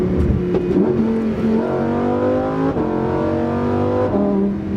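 A Lamborghini Huracan Performante accelerates hard through quick short-shifted gears, its engine note climbing in pitch and dropping at each rapid upshift, loud and close with a steady roar throughout.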